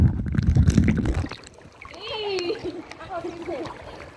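A man dives into water, making a loud, churning splash at the start that quickly fades. Excited voices follow, talking and calling out over faint water movement.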